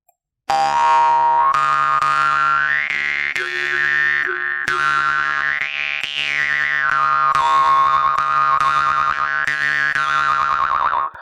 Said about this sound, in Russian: И у нас варган уже звучит непосредственно как музыка